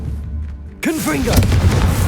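A sudden loud burst from the Confringo explosive spell in Hogwarts Legacy, a booming blast that cuts in after a quiet start, with a voice speaking over the blast.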